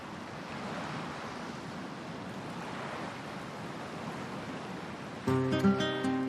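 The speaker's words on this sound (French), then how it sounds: "au son des vagues et du chant des oiseaux" Ocean waves wash steadily onto a shore, a continuous hissing surf with gentle swells, until a tonal musical chime cuts in over the last second; no one speaks.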